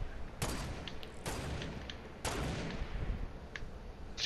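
Sniper rifle fire in Fortnite: three sharp, fairly distant cracks spaced about a second apart, each with a short trailing echo, over quiet game ambience.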